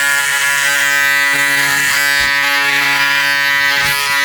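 A Braun Series 7 360 Flex electric shaver runs close and loud with a steady high-pitched buzz, its tone dipping briefly a couple of times as it moves over stubble.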